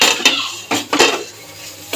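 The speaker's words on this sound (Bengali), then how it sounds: "আমি এবার ঢাকাটা খুলে দেখব।" A metal lid comes off a pan of radish greens and prawns cooking over a low gas flame. Several sharp, close clanks of metal on metal ring out, then a quieter sizzle continues underneath.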